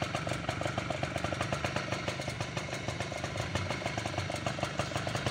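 Two-stroke automatic scooter engine idling after a kick start, with a steady rapid putter and clatter close by and no talk.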